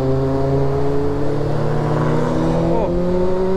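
A powerful Audi engine revs and roars up close, its pitch holding steady, then rising and falling sharply as it accelerates near the end.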